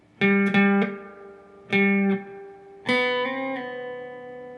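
A guitar plays part 2 of a song slowly, a few clean picked notes and hammer-on, pull-off phrases in short separated groups with ringing sustain between them.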